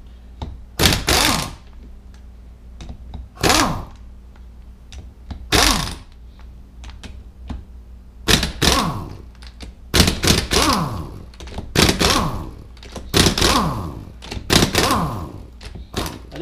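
Pump bolts coming out of a Ford E4OD transmission: a series of loud, close thunks and clatters at irregular intervals, each followed by metallic ringing and rattling as the tools and bolts strike.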